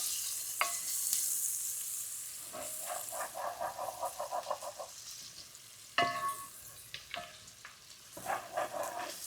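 Garlic frying in a pan with onion, bacon and butter for potato soup crackles and sizzles close by, broken by bursts of scraping stirring and softer sputtering lulls, with no voices.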